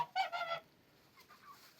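A domestic gander at a country dacha in winter gives a short burst of a few honking calls, fairly faint, followed by a softer trailing call.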